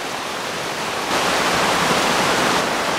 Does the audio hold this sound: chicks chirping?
no